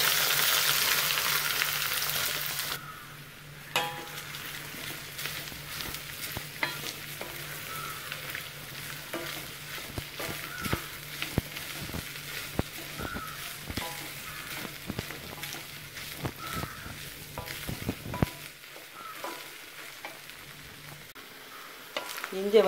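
Cut ginger pieces fry in hot sesame oil for a Kerala-style ginger curry, starting with a loud burst of hissing as they hit the pan, then settling into a softer, crackling sizzle with scattered spatter pops and occasional stirring.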